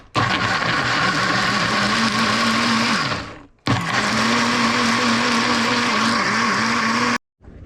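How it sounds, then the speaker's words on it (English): A kitchen blender whirs loudly and steadily, blending garlic, pepper and broadleaf thyme for a Hassar curry, stopping briefly around the middle before spinning up again and cutting off near the end. "we're gonna blend some of the stuff up here we had here, the garlic, pepper, broadleaf thyme"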